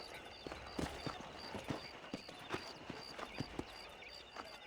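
Horse hooves clip-clop steadily in a Red Dead Redemption ride near Armadillo, a regular trotting beat of sharp knocks over a faint background hiss and hum, quiet overall.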